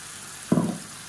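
Tomato paste for a spicy kara chutney hitting a hot frying pan, one sudden loud sizzle that bursts in and fades over a fraction of a second, close up against a quiet background.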